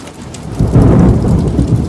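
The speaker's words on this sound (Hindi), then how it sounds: "बादल गरज रहे बादल" Thunder rumbles loudly and deeply over steady heavy rain in a rural village, building into a close roll after a quiet start.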